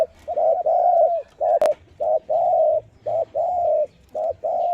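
Repeated soft, hollow spotted dove coos in short phrases separated by brief pauses, a single coo note with a small voice, close and clear, with a faint click partway through.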